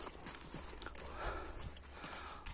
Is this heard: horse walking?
yes